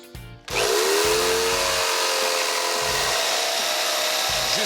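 A power drill bores into a wooden post in a garden, starting after a short pause and then whining loud and close with a sustained, slightly rising motor tone and faint grinding underneath.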